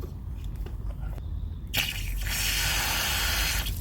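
Water bursts on from a freshly opened quick coupler sprinkler valve at a house, a short burst of mechanical clicking at the valve giving way to a loud, steady hissing spray that runs to the end.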